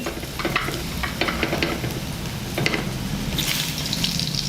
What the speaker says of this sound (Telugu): ఇప్పుడు ఒక్కొక్క వెజిటేబుల్ని ఇలా లైట్గా లో ఫ్లేమ్లో చక్కగా వేయించుకోవాలి